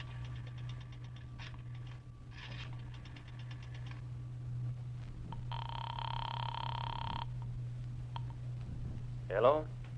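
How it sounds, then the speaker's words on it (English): Coin drop into a drugstore payphone slot followed by dialing in an old-time radio drama, with a bright buzzy tone burst and short clicks over a steady low hum, ending in a quick rattling sweep. "dropped a nickel in the slot, and dialed"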